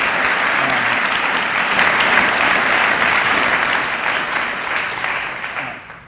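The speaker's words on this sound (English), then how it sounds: "I'd also like to have a round of applause for the Dean" An audience at a humanities event gives the Dean a dense round of applause, loud and sustained for several seconds before fading at the end, with no talking over it.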